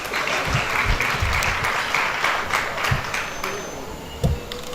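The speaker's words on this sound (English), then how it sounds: "a round of applause again for our panelists" An audience at a women's forum panel session gives a round of applause for the panelists, loud, dense and sustained, with a few sharper individual claps standing out near the end.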